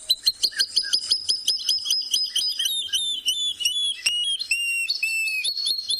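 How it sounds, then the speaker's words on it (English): Water thick-knee call played back from a phone app at sunrise in a Tswalu safari setting: a clear series of rising, repeated whistled notes that quicken and then slow into longer plaintive whistles, loud and close, with no talk. "that's the call of the water thickney"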